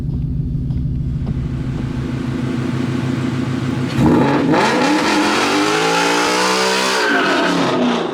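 A 2016 Mustang GT with a T56 Magnum XL manual gearbox does a burnout, its engine rumbling at a loud steady idle before revving hard into a sustained roar with tire squeal, close and continuous.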